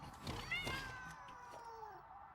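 A cat creature in the video game Satisfactory gives a couple of drawn-out, wavering meows, fairly faint, over low game ambience.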